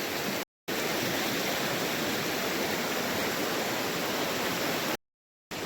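Strong river current rushing in a steady, loud broadband roar at a crossing point in Mon District, Nagaland, continuous and close, briefly cut to silence twice.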